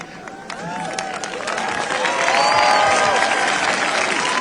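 Audience applause swells and holds steady, a dense wash of clapping with some cheering, greeting the Argentine president during a speech at an anniversary event for Israel's independence.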